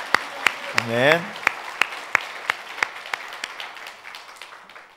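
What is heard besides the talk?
congregation applause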